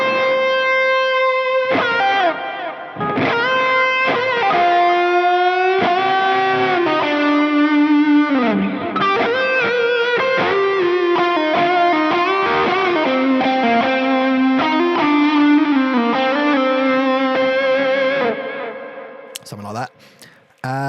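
An electric guitar on a rock band's live rig played through reverb and a tube echo delay, sustained distorted melodic lines ringing with long echoing tails, loud and continuous before cutting off near the end.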